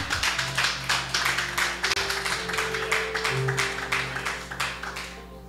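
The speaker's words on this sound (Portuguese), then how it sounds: "Aplauda o Senhor." A church congregation claps together in a fast, dense, rhythmic burst that stays loud and steady, fading slightly toward the end, with a low organ or keyboard drone underneath.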